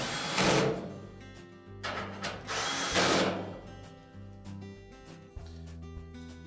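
A screw is driven into the top of a Whirlpool dryer during a motor pulley replacement, with several loud bursts of power-drill whirring and ratcheting close by, separated by short pauses and light mechanical clicks.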